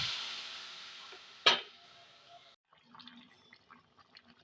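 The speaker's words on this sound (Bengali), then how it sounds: "এবার আমি মাছের ঝোলটা ঢেলে দিই" Fish curry broth pours into a hot pan with mustard, giving a loud hiss and sizzle that fades. A sharp splash comes midway, then the sound drops to a quiet bubbling simmer.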